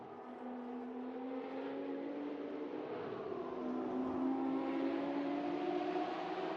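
SRA ProCar series race cars roar at a race circuit, engines droning continuously with rising and shifting pitch as several cars run close together, loud and steady throughout with no talk.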